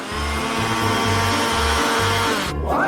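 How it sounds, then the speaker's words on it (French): An electric blender mixes grated cucumber and eggs into waffle batter in a kitchen, giving a loud, close motor whir that pulses on and off in short bursts and then stops. "Et je vais le faire rapidement avec un mixeur."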